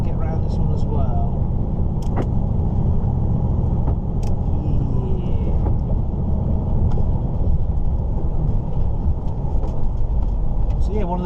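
Volvo FL10 truck rolling along a road, heard from inside the cab as a constant low rumble and road roar with occasional light rattles and clicks, while someone talks over it.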